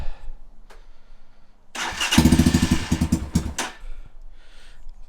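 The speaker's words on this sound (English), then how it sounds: "so let's start her up and get the oil flowing. Give it a little bit of throttle." Kayo 230 T4 dirt bike with fresh oil, starting up after a few quiet moments, then revving in a series of sharp throttle blips before settling back down, loud and close.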